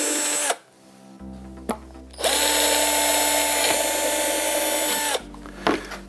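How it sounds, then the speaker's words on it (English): A power drill bores pilot holes into the ends of a window sill with a steady high whine lasting a few seconds, bracketed by brief trigger blips and clicks, close and loud with no talking. "I'm going to drill a couple of pilot holes,"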